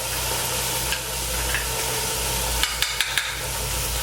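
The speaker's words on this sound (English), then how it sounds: "So I'm putting in the" Minced garlic and ground beef sizzle steadily in a hot pan for a stroganoff, a constant close frying hiss with a few light clicks of stirring near the end.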